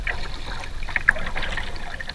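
Kayak hull scraping over debris and roughage in shallow water at low tide, a soft continuous rustle with light watery trickling and a couple of brief sharper scrapes near the middle.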